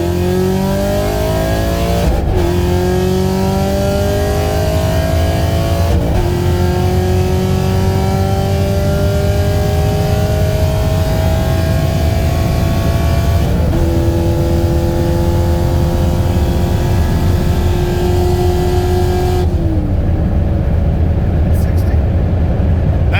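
A Chevrolet Camaro LT1 V8 with cam, headers, E85 and a manual gearbox accelerates hard, its loud engine note climbing through several gears with sharp upshifts, heard from inside the car alongside occasional talking.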